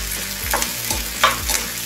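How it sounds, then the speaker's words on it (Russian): Onions fry in a pan while a utensil stirs them, a loud continuous sizzle broken by a few scraping strokes in a slow rhythm, close by with no talking. "Жарим лучок до золотистого цвета"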